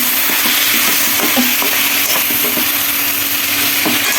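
Food fries in a pan while a spatula stirs it, giving a constant bright sizzle with repeated scraping and clinking strokes, close and clear with no talking.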